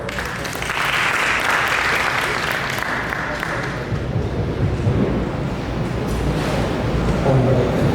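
A conference audience applauds a presenter, the Head of International Business of World Pharma Biotech Berhad, at a technology incubator program: dense, steady clapping like rain fills the room for several seconds without a break.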